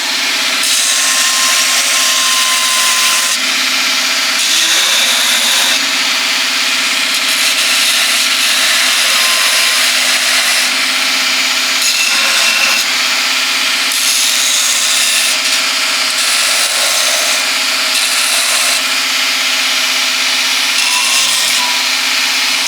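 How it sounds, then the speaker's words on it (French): A powered grinder works steadily on a horse's hoof during a farrier demonstration of a flat right front hoof, a continuous, close abrasive whine with slight shifts in pressure and no talk over it. "je vais venir meuler, enlever de la matière."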